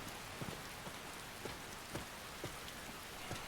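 Steady rain pattering on the ground in a wooded area in Skyrim, a constant hiss with a few soft drip-like taps spaced about once a second, no voices.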